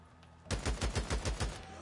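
Rapid burst of gunfire from the video game Days Gone, about seven loud, evenly spaced shots in quick succession after a brief quiet lead-in, with no talking over it.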